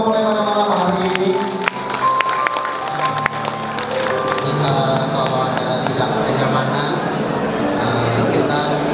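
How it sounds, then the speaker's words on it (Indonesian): A wedding crowd in Indonesia claps steadily for the bride and groom at an evening reception, the applause sustained beneath music and a voice over the sound system. "Tepuk tangan sekali lagi dong untuk kedua mempelai pada malam hari ini."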